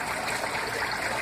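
Water flows through a pipe fitted with a T joint into a water-tank tilapia tank, a steady, close, continuous rushing trickle with no talk.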